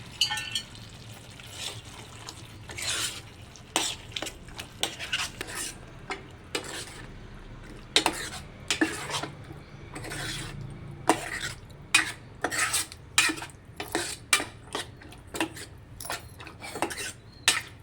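A spoon stirs soaked green peas into a masala curry in a metal pot, making repeated scraping clinks and knocks in an irregular rhythm. A faint sizzling lies beneath, heard close.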